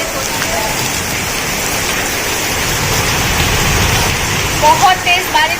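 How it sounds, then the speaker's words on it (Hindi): Heavy rain pours down in a dense, steady hiss, with a few brief muffled voice-like sounds near the end. "बहुत तेज बारिश हो रही है।"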